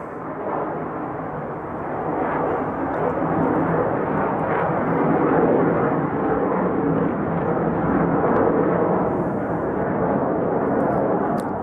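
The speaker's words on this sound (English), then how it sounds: "pardon me while that jet goes by" A jet airliner passes overhead at a motorcycle workshop, a loud steady broadband roar that swells after the first two seconds and holds for about ten seconds with no talking.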